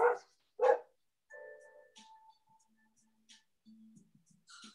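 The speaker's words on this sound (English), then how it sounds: "that was Ted barking" Two sharp barks from a dog up close open the clip during an indoor Pilates class, followed by quieter scattered clinks and faint tonal sounds.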